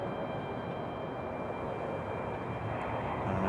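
An Airbus A319 jet departs an airport, heard as a steady broadband engine roar at moderate distance that stays even and sustained throughout, with no voices present.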